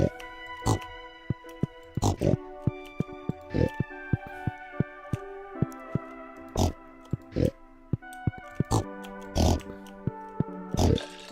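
Pigs grunting and oinking in the farming game Stardew Valley on a wilderness farm in winter, a string of short snorty calls coming at uneven intervals, some louder and closer than others, over a quiet musical background.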